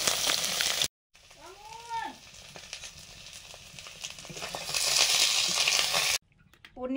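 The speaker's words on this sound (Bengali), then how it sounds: "পনিরগুলো ভেজে নিচ্ছি" Paneer frying in hot white oil sizzles with a broad hiss that rises and falls, interrupted briefly by a short sliding squeak and sudden cuts to silence.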